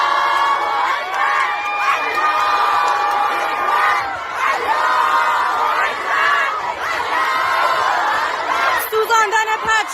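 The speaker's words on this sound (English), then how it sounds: "The clapping and cheering is coming from the Iranian university students who are clapping and cheering the fact that the Islamic regime jihad flag has been burned." Iranian university students cheering and shouting at a flag burning: a loud, crowded mix of whoops, raised voices and excited chatter that surges and dips in waves, with sharper bursts toward the end.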